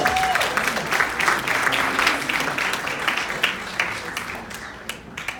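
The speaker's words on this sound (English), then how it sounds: "Give them a round of applause." Applause from an audience at a live show, a dense wash of clapping that stays strong and steady throughout before easing slightly near the end, with a brief voice at the start.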